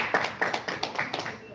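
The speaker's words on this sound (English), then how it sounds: "Okay, a round of applause for Smart Flow." Scattered audience clapping at a tech innovation presentation, a modest round of applause with distinct hand claps repeating unevenly over a second and a half, moderately loud and close.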